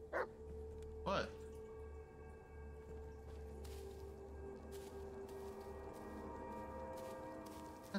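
A dog in the Blair Witch video game gives two short barks early on, heard over a steady low game ambience and droning hum that continue afterward.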